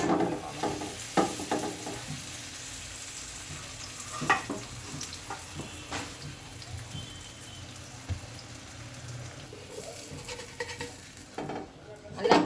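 Masala paratha roasting on a hot pan with ghee, a steady close sizzle and frying crackle with occasional scraping and tapping of a utensil, no voices.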